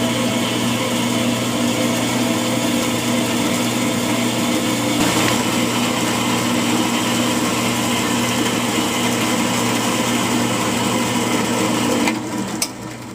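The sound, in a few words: grinding out holes in a John Deere 420 loader quick hitch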